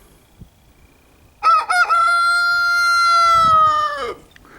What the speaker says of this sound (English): He's crowing. Everybody's crowing but you.